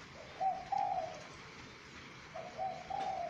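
A spotted dove coos at night in two soft, rhythmic phrases a few seconds apart, moderately close, with no voices.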